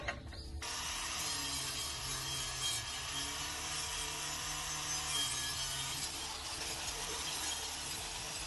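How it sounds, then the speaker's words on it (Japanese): Wire brush scrubbing metal parts on a used fishing boat, a continuous harsh rasping scrape that runs steadily and close at moderate loudness with no talk over it. "ワイヤーブラシ結構きつい説"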